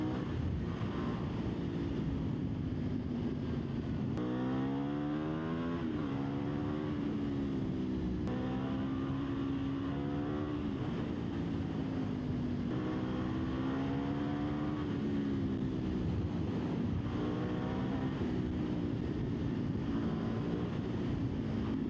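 KTM Duke 990 motorcycle on the move, engine tone rising and falling through repeated gear shifts under constant heavy wind roar, steady and loud for the whole ride.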